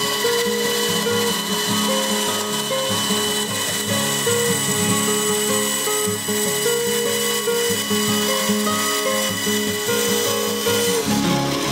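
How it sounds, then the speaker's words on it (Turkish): Band saw cutting the handle material for a knife made from steel plate, giving a loud, continuous whirring drone with a steady cutting rasp throughout and no voices. "Ardından ustamız şerit testereyle kabzamızın kesimini gerçekleştiriyor"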